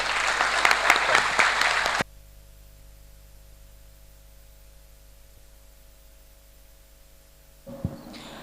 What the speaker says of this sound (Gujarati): પહેલા તો બધા માટે જોરદાર તાળીઓ.